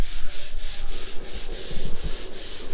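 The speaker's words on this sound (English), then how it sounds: "busy sanding down all the filler that they put in yesterday" Steady, continuous rasping of sandpaper rubbed by hand across dried filler on a house under construction, with rhythmic back-and-forth strokes and no voices.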